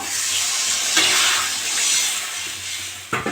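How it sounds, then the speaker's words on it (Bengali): Water hits a pan of fish-and-potato masala and sets off a loud close sizzling hiss. The hiss swells and eases with stirring, then a few clattering knocks come at the end, with no voices. "আমি এবার জল দিয়ে দেবো"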